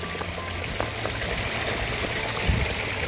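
Water running through a backyard stream and waterfall feature with a rock-lined liner, a steady close babbling rush and trickle filling the whole clip, no talk.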